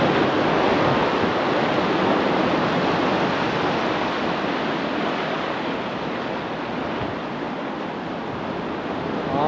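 Sea waves crash steadily onto the shore at Tenneti Park in Vizag, a loud, continuous roar of surf with no break or talking throughout.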